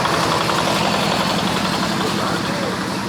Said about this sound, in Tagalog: Ayun yung mga sasakyan dito mga kaibigan. Kuliglig.